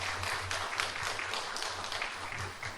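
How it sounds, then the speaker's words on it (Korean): A church congregation claps to welcome a pastor and his wife, a moderate, even patter of many hands with a low hum beneath it. "여러분 박수로 환영해 주시기 바랍니다"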